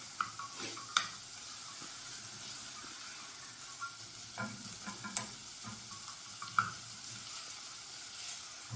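Onions and spices stirred in hot oil in a pan for chicken pilau, with a steady low sizzle and occasional sharp scrapes and knocks of a silicone spoon against the pan, no talking.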